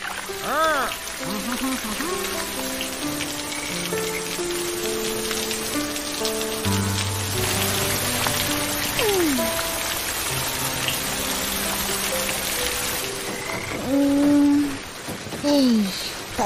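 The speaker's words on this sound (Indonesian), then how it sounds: "Boleh pula hujan lebat tak berhenti-henti." Heavy cartoon rain falls without a break as a steady hiss. Voices and musical tones from the animated scene play over it throughout.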